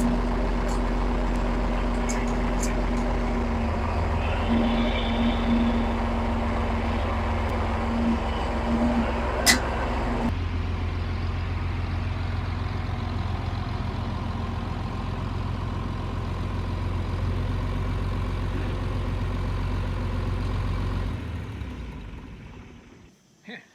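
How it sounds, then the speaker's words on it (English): An old John Deere 5010 tractor engine runs steadily with a low, rumbling chug that shifts gear midway, then cuts off and falls silent near the end. "that tractor runs unbelievably well"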